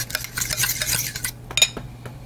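Vanilla paste being stirred into sugar in a bowl, a quick run of close scraping and clinking strokes that briefly pause and then pick up again, with no voices present.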